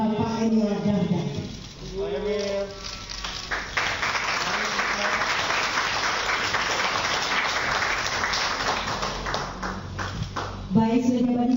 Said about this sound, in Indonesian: Kita berikan tepuk tangan sekali lagi